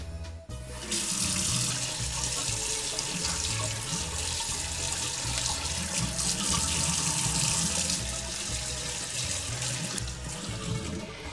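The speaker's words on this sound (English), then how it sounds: "take your shank and rinse each one under warm water" Warm tap water runs steadily into a kitchen sink as lamb shanks are rinsed under it, a constant close splashing hiss that starts abruptly and continues without pause.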